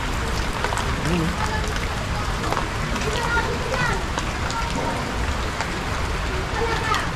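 Heavy rain pours steadily during rising floodwater, a dense continuous wash of noise throughout, with a person speaking briefly over it.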